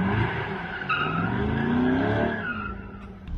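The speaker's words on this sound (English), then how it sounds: "So drift an automatic mid-engine C8 Corvette." Tires squeal and skid as an automatic mid-engine C8 Corvette drifts, engine droning loudly and continuously, the screech rising and sliding in pitch.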